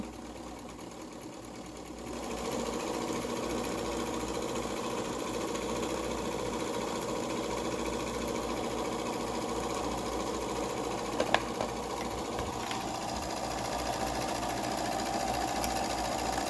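A sewing machine runs a single straight line of stitching through fabric. It starts after a short quiet moment, then keeps up a steady, close, continuous whirring drone with a brief click partway through.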